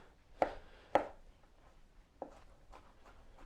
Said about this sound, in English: You're just going to keep chopping